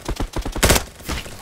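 An automatic sniper rifle fires in the Bad Business video game, a quick rhythmic string of close, punchy shots roughly a tenth of a second apart, with one louder crack in the middle.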